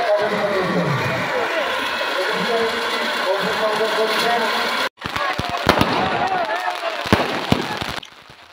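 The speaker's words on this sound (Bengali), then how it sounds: "উপভোগ করুন এই সুন্দর আলোকঞ্চল আতশবাজি এবং তার সঙ্গে অভিজ্ঞতা করছেন।" Fireworks go off at a Ravan Dahan event on Vijaya Dashami, with crackling bursts and sharp pops heard over a loud crowd and announcement voices, then a denser run of bangs in the second half.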